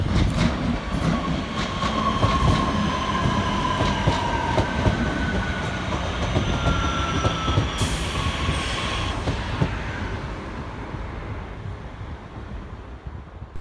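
A Northern class 323 electric train pulls into Stockport railway station, its loud steady rumble joined by wheel clatter and a high squeal of brakes and wheels as it nears the platform.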